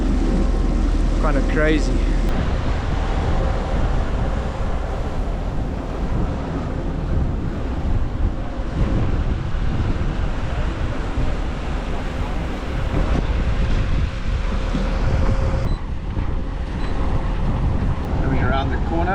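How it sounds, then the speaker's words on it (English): A sailboat's motor drones steadily as the boat approaches St Helena in open ocean, the hum mixed with wind noise and surf, and a voice briefly speaks over it. "Pity about the noise of the motor."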